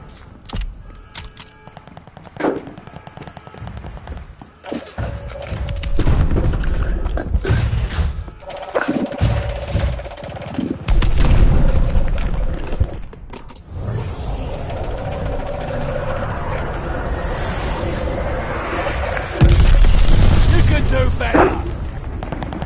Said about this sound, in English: Bomber assist coming in.